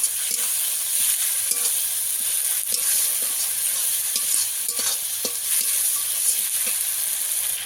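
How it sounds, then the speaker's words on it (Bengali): A spice paste with a little added water is stirred and fried in a pan for a fish curry, giving a steady close sizzle broken by the scrape of a spatula. "এই যে মশলাটাকে ভালো করে কষিয়ে নেব।"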